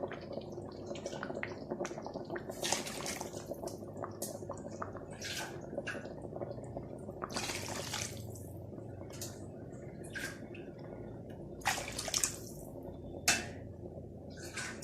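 Broth is poured into a pot of potatoes simmering in tomato sauce, giving a soft, continuous liquid splash and dribble with scattered light clinks of kitchenware, fairly quiet and close.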